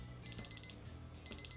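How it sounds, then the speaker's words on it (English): A ThermoWorks Dot probe thermometer alarm beeps in quick bursts of high electronic tones, two clusters a moment apart, fairly quiet and close, over a low background hum while pork butt cooks on a smoker. "All right, you can hear the dot alarm."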